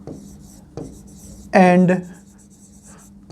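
Pen scratching out numbers on paper while working a Class 10 maths division problem, a faint, soft scraping heard beneath steady explanatory speech.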